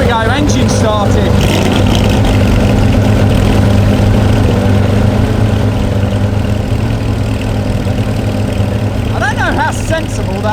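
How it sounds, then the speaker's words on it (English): A green Porsche 356 outlaw car idles after starting, its engine giving a loud, steady low rumble that runs throughout with a few rises in revs, while people talk over it. "engine started."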